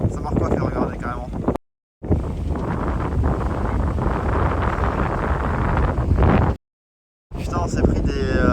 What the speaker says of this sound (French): Abusé ce vent là comparé à tout à l'heure.